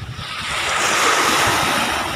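Ocean waves wash up onto a seashore, one swell rising and rushing in over about two seconds, with wind hiss over the steady surf.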